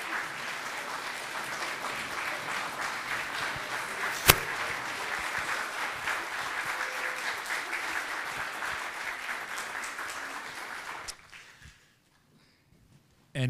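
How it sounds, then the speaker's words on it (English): Church congregation applauds after a Christmas cantata, a dense, steady wash of clapping with one sharp clap near the middle, lasting about eleven seconds before cutting off abruptly into near silence. "Can we have another round of applause?"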